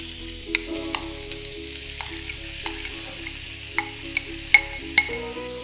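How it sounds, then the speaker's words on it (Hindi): Grated bottle gourd stirred and frying in ghee in a pan for a gourd coconut sweet, a low steady sizzle broken by repeated sharp clinks of a spoon against the pan. "लौकी कोकोनट हलवा बनाने के लिए हम पैन में डालते हैं 1/8 कप घी, और घी को हम थोड़ा सा मेल्ट होने देते हैं। और अब इसमें हम डालते हैं ग्रेट किया हुआ लौकी।"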